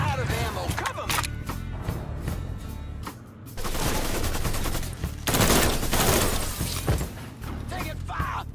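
Mafia 3 gunfight with dense bursts of automatic and single gunshots, breaking glass and debris, loud and continuous through the whole stretch, with shouted voices from characters mixed into the combat.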